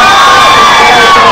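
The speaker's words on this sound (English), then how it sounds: "people have been cheering pretty much throughout this whole thing" A crowd cheers and whoops at a vigil, loud and sustained with bright overlapping voices in a brief burst.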